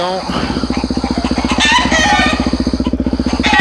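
A Suzuki DRZ400SM motorcycle engine on sand dunes runs with a steady, rapid thumping pulse, loud and close throughout, with a brief rise in revs midway.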